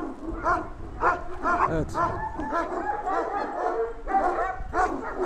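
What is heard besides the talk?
four-month-old puppies barking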